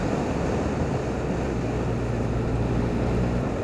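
A Honda CB1100 motorcycle accelerates hard up a steep, twisty mountain road from around 2,000 RPM. The engine gives a continuous, loud, full-throttle roar, with heavy wind rush throughout and no voices.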